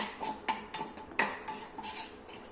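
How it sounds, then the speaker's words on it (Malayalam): A cleaning mixture of Ujala and salt being stirred in a bowl, a quick series of clinking spoon-against-dish taps in an irregular rhythm, close up and without speech. "ഇനി ഇതെല്ലാം കൂടെ നമുക്ക് നന്നായിട്ടൊന്ന് മിക്സ് ചെയ്ത് കൊടുക്കാം."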